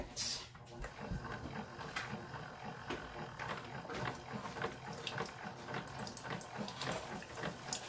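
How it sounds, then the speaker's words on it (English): A Keurig coffee maker filled with vinegar solution heats water in a kitchen, giving a steady hissing, bubbling gurgle with faint clicks, alone at moderate level throughout. "I'm going to put the lid on it and turn it on because I need the water to heat up."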